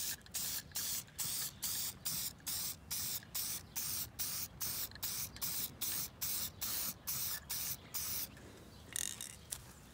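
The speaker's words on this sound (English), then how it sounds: "I'm just going to spray it like you would do paint." Rapid repeated bursts of aerosol conformal coating sprayed onto a circuit board, about two per second, each a short loud hiss separated by brief pauses, close by with no talking.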